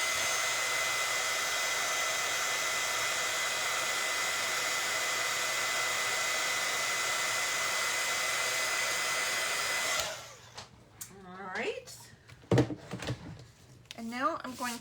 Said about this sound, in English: let's give this a quick heat emboss